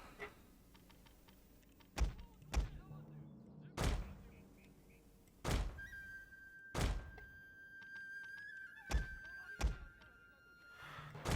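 Cannon artillery firing in the Shogun II strategy game: a series of sharp, heavy booms at irregular intervals, each a broad thump with a short decay, over a low ambient bed with a faint sustained tone partway through.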